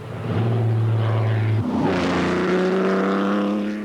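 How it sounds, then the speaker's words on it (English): A loud, close front-engine Ferrari V6 racing car engine revs steadily, its pitch rising after a brief dip as the car accelerates. "The engine is a V6."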